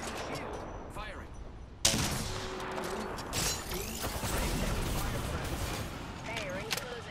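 Gunfire in Apex Legends, a loud burst at about two seconds followed by dense rattling shots and explosions over continuous battle noise, with game effects throughout.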